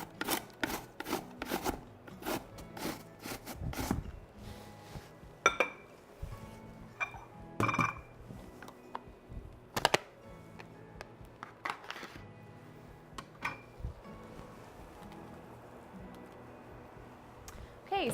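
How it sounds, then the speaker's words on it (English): Apple being finely grated, then stirred into cabbage in a pot, with scraping strokes and sharp metallic clinks of utensils against the pot, close and intermittent, busiest at the start and sparser later. "I'm just going to grate this really fine and stir it right into my cabbage."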